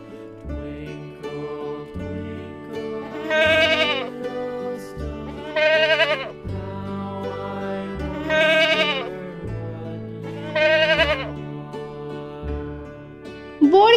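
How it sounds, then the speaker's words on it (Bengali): A young goat bleats four or five times in short, wavering cries spaced a few seconds apart, each loud and nasal, over steady background music. "ছাগল ছানা লাফিয়ে চলে"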